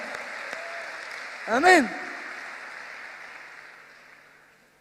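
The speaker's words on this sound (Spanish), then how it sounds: "Un aplauso para algo que exalta a Cristo." A church congregation applauds during a sermon: a soft, even wash of crowd clapping runs under a single drawn-out voice calling out partway through, then slowly fades away.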